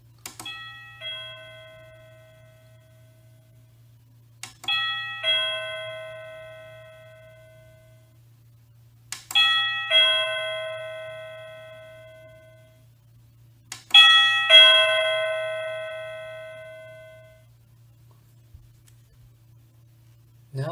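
An answer-buzzer receiver for classroom games plays a doorbell-style chime ringtone four times at even intervals, each a bright ding-dong that rings out and fades over a faint steady hum.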